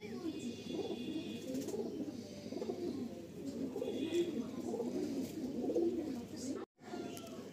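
Madrasi pigeons coo softly and continuously in a loft, a low steady burble with faint chirps, over quiet room noise with a voice murmuring in the background.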